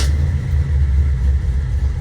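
A 1979 Chevy K10 pickup's old small-block engine rumbles loudly and low right after firing up, a short burst of deep, steady engine noise with a brief higher starter whine at the very start.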